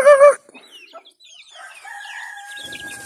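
Native chickens on a rural Philippine farm give a loud, close cluck-like call at the start, then quieter scattered clucks and a thin, sustained bird call follow.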